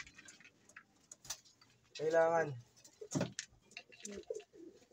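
Pigeons at feeding time give a soft throaty coo in the middle, set among scattered faint pecks, clicks and quiet rustles in a calm loft.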